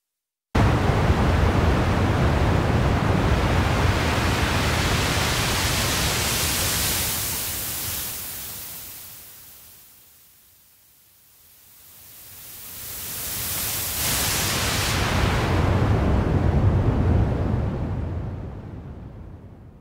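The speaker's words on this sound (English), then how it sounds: "bypass the envelope so we can just listen to the noise for a second" A raw noise oscillator in the Surge XT synthesizer with the filter bypassed gives a loud, broad hiss that fades nearly to silence midway, then swells back to full strength.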